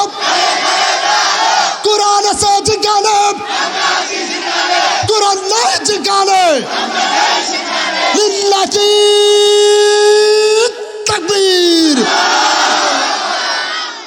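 A large crowd chants the takbir in loud unison, answering a preacher during an open-air Islamic tafsir sermon; drawn-out, swelling group calls repeat over about fourteen seconds, close and dense with cheering voices.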